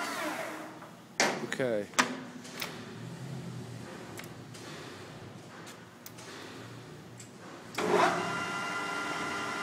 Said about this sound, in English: That's the longitudinal feed.